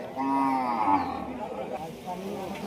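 A cow mooing at a busy cattle market in Rajshahi City Haat: one long, loud, close bellow with a falling pitch, followed by a quieter low call against the market's background noise.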